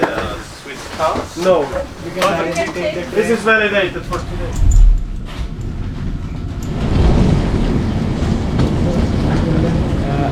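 The Bernina Express train rolls and rumbles under a voice, its clatter and screech fading as it slows arriving at a station, leaving a steady low hum of carriage noise.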